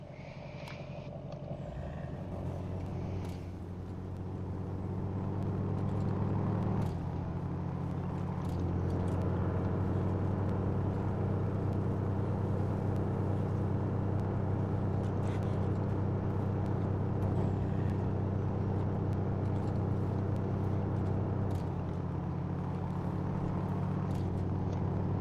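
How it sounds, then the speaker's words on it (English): A 1983 Ford Ranger diesel truck with a 6-speed gearbox drives in the SnowRunner video game, its steady low engine drone rising after a few seconds and then holding loud and continuous, with no talking. "6-speed paired with this diesel goes pretty fast."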